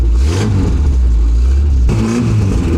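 A Peugeot 206 engine, just started on gas, revs loudly up close in short surges, with the pitch rising and falling around a rough running note.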